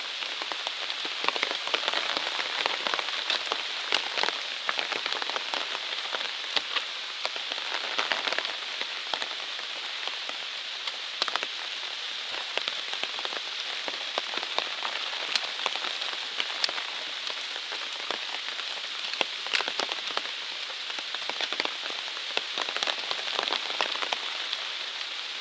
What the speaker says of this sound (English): Well, we did not outrun the rain